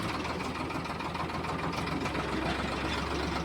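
A tractor engine runs steadily at close range while preparing a field for wheat sowing, a loud continuous low rumble with a knocking chug throughout and no voices.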